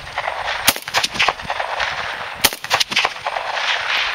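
AK-47 rifle fired rapidly outdoors, loud sharp shots in quick irregular bursts with two especially strong cracks, echoing between volleys.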